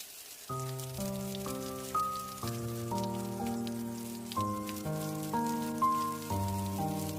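Steady heavy rain hisses beneath a slow, sustained melodic music score with several held notes.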